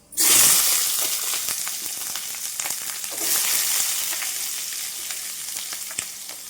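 Urad dal sizzles and fries in hot oil for an eggplant chutney, a loud burst at the start settling into a steady crackling hiss with a stir partway through, no voices.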